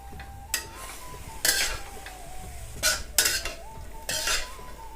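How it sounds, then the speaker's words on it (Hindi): Fenugreek leaves being stirred in a pan for paratha filling, with a utensil scraping and clinking against the pan in several short bursts separated by quieter pauses, close and fairly clear. "यहाँ पर मेथी को अच्छे से चला लेंगे।"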